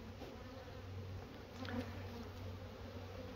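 Several angry bees buzz loudly and close by at an apiary during a spring hive inspection, their droning hum rising and falling as they circle, with no talking.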